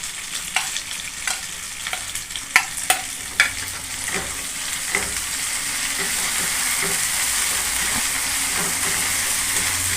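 Ginger paste frying in a pan at home, a loud sizzle building into a steady hiss, with a few sharp stirring clacks from a utensil in the first seconds.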